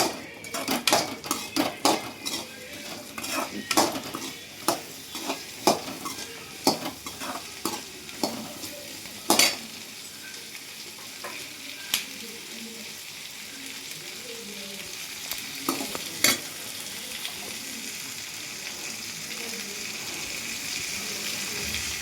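Masala spices with coriander roast in a pan, a spoon scraping and clanking against the metal in quick irregular strokes over a soft sizzle, the stirring thinning out later as the sizzle continues.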